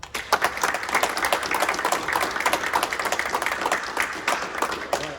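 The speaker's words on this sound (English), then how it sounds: "let's give them a big round of applause" People at a military unit gathering give award winners a round of applause: brisk, dense clapping from a small group, close and fairly loud, holding steady for several seconds without speech.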